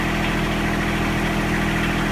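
A tractor engine idles in a steady, loud, low rumble with an even, rapid pulsing throb and no break in the sound.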